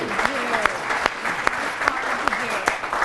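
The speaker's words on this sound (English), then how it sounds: "Let's give Tom a little round of applause." A small-group round of applause at an entrepreneur and small business community event, with brisk, closely spaced claps from a modest crowd at moderate loudness and a few sharper individual claps standing out throughout.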